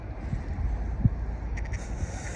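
Wind at the beach rushes and buffets the microphone in a steady low roar, with a short gust thump partway through.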